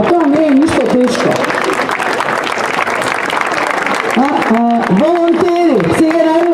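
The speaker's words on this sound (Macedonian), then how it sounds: "значи аплаузот може да трае" An audience at a Red Cross and Red Crescent founding-day ceremony claps loudly and continuously, a dense wash of applause heard close, while a voice speaks over it.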